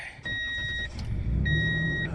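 A new lawn care work truck idling steadily nearby, a low engine rumble with two brief high electronic beeping tones over it.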